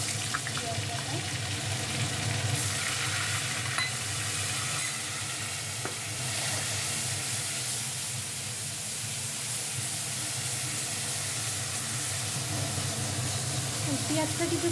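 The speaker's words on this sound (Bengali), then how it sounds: "পেঁয়াজটা কিছুক্ষণ ভেজে নেওয়া হবে, একটু লাল লাল হবে" Chopped onion frying in hot oil in a home kitchen for a potol chingri (pointed gourd and prawn) curry, giving a steady, close sizzle with occasional stirring that runs the whole time without a break.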